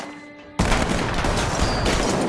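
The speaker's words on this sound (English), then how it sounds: "the sniper then clearly shoots 2 more shots after Joker's gang" A dense burst of gunfire from a sniper in The Dark Knight erupts suddenly after a quiet, tonal opening and continues loud and unbroken, like rapid shots in an action scene.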